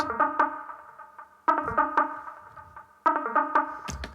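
A bright, vocal-sounding schranz synth lead using a formant mode in the Wavetable synth plays short rhythmic phrases of choppy notes, repeating in three similar bursts, clear and alone.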